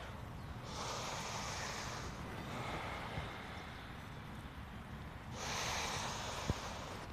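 Slow, deep breaths during a yoga session, long airy inhales and exhales, close and steady with brief pauses between them and no talking.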